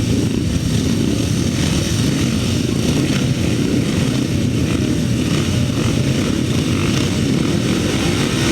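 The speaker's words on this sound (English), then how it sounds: "Revving up then for race 11." Grasstrack racing motorcycles rev together at the start line, a loud continuous dense engine roar that stays even and unbroken throughout, with no voices over it.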